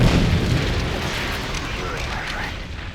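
A deep, rumbling explosion as a church tower is destroyed in Call of Duty, the blast booming up front and decaying into a long roar with a voice talking over it.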